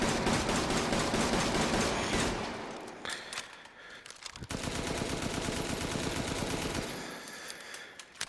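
Sustained automatic gunfire with infinite ammo in Resident Evil 8, long loud unbroken bursts of rapid shots with a brief pause midway, then firing resumes.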